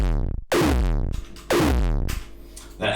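A gated kick drum tail shaped with EQ and an extra disperser effect hits twice, each a loud, booming synthetic thump that smears into a short, diffuse, ringing decay.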